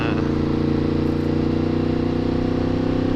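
Riding a Yamaha FZ-10 with an aftermarket Yoshimura exhaust gives a constant loud, close engine hum with a steady throbbing rhythm, while a rider's voice speaks faintly over it.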